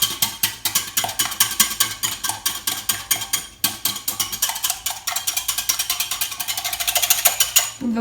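Egg whites whisked briskly in a bowl for pancake batter, a steady rapid rattling of the whisk against the bowl running throughout, close and loud with no talking.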